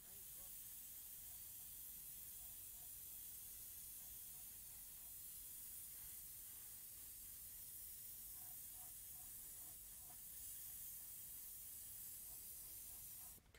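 An airbrush spraying a fine mist of thinned paint onto the turret of a 1:35 scale Zvezda T-34/76 model tank, a steady soft hiss running throughout with faint intermittent ticks, quiet and close.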